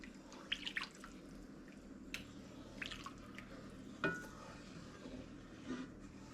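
Milk sauce being stirred in a pan for Swedish meatballs, a quiet, close scraping and sloshing with faint bubbling and drips over a low steady kitchen hum, no speech.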